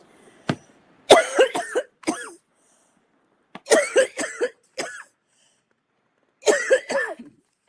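Three bursts of dry, harsh coughing, each a cluster of several coughs separated by short pauses of silence, close and fairly loud.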